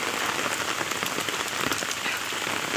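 Steady, dense rain patters loudly and continuously on a large umbrella during a short walk outdoors, a close, even hiss of drops with no voices.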